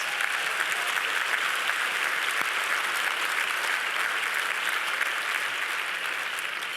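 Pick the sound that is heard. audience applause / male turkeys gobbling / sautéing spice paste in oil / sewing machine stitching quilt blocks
audience applause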